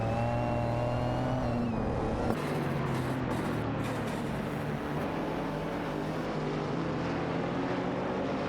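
A Ford Mustang GT350 and a Ford Focus ST battle among a pack of racers in a racing video game, engines roaring and revving loudly and continuously as cars whoosh past, with no voices.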